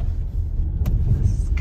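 A Jeep rolls along a dirt ranch trail at a Spartan Race site in Burnet, Texas, its engine a steady low rumble close by, with a brief rattle and a faint high whine near the end.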